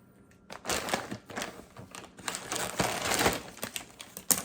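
A massive two-pound bag of frozen broccoli florets being cut open, dense crinkling and rustling plastic with rapid scraping and crunching, close and continuous.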